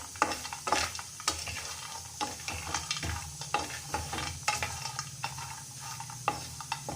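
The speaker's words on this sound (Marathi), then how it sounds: "आता आपण त्यामध्ये खोबरं टाकूया आणि ते सुद्धा परतून घ्यायचं आहे, छान भाजून घ्यायचं खमंग।" Grated coconut and peanuts being roasted in a pan for stuffed bhindi masala, a soft dry sizzle under repeated scraping strokes of a spoon stirring, close and fairly quiet.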